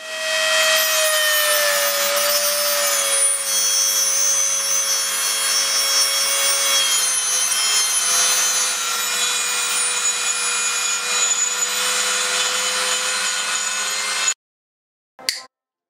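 A lathe tool is sawn down to length while making a new nut for a compound slide, heard as a continuous close rasping saw stroke for about fourteen seconds before stopping abruptly, followed by a brief knock.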